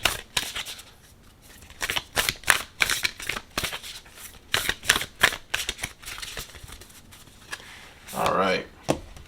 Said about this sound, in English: Let's go ahead and shuffle and see what information we get from the cards.